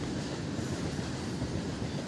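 A train hauling petroleum tanker wagons rolls past on the railway track near Kaippattoor while a fire burns beside the line, giving a steady, close, continuous rumble of wheels and wagons with no voices.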